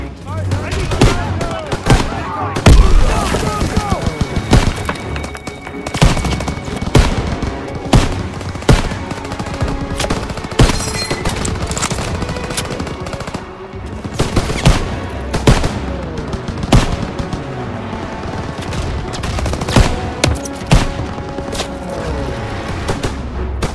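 Heavy German machine gun fire in Call of Duty WWII, Operation Cobra mission, with rapid repeated bursts and booms layered over music, loud and close, with shouted voices at times.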